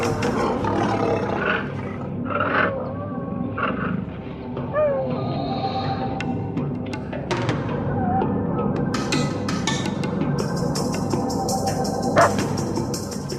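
Lions roar in the wild, several deep roars and growls rising and falling over a murky outdoor background, fairly close and loud with brief gaps between calls.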